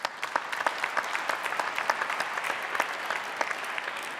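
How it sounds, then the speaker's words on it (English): Audience applause at a solar-finance pitch competition: steady, dense clapping from a sizeable crowd, with sharp individual claps standing out, sustained at moderate volume throughout. "we should actually give them a round of applause"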